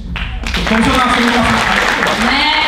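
A live audience at a Czech stage show erupts into loud, dense applause, with raised voices and cheering mixed into the clapping for the whole short burst.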